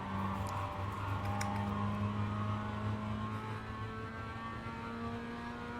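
A Mazda MX-5 engine in the iRacing sim at Okayama holds full throttle, a loud, steady, continuous drone with a gently shifting pitch that runs the whole time with no talk.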